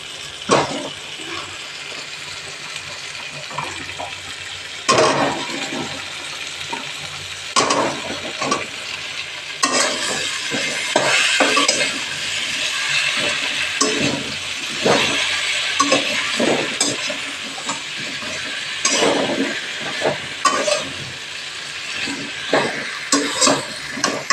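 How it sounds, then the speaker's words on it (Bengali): Bottle gourd pieces with fried spices for a lau chana dal curry sizzle and hiss steadily in a pan, broken by repeated scraping stirs and clinks of a spoon, close and fairly loud throughout. "এই দেখো মশলাগুলো ভাজা ভাজা হয়ে গেছে। লাউগুলো দিয়ে দিচ্ছি।"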